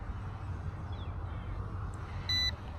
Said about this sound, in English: maybe that beeping is telling me, hey dude, you're getting really low on power